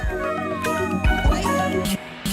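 A pet cat named Loki meows a few times up close, drawn-out and wavering, with some room noise and light handling sounds around it.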